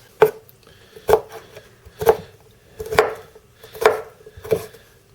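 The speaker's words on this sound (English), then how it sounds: "I want to chop up a dill pickle as well." A dill pickle chopped with a knife on a cutting board in a home kitchen, six crisp, evenly spaced thuds of the blade striking the board, close and clear with no talking.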